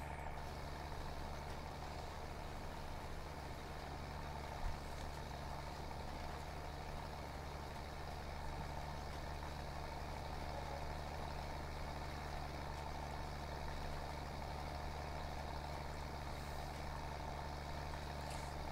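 Tractor engine in Farming Simulator 19 drones steadily with a deep, constant low rumble and broad hum, heard alone throughout with no talking.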